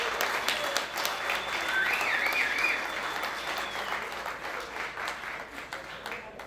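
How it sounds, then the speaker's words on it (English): An audience at a talk breaks into sustained applause, a full, crackling round of clapping that swells early and slowly thins out over several seconds. "let me lead you in a round of applause for yourselves"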